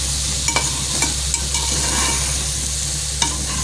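A spiced mixture seasoned with chilli powder sautés in a pan, a steady close sizzle with a few sharp scrapes of a spoon stirring through it, no talking.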